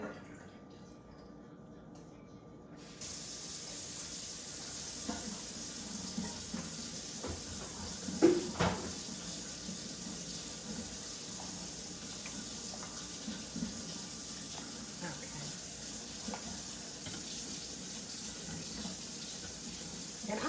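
Expired liquid from a pantry is poured out into a kitchen sink, giving a steady quiet splashing stream that starts a few seconds in and runs on, with one brief louder clatter partway through.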